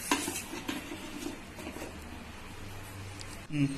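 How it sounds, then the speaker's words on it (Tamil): A metal idli plate being set into an idli steamer pot while making rice noodles: a clatter of metal at the start, quieter scraping and handling, then another clank at the end. "அந்த இட்லி தட்டை எடுத்து நம்ம உள்ளே வைக்க போகிறோம்"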